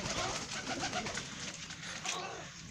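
Pigeons coo softly in a low, murmuring chorus against faint background noise, with no one speaking.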